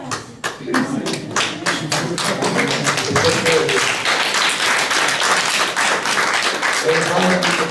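An audience applauds, starting with a few scattered claps that quickly thicken into sustained, dense clapping, with a voice talking underneath.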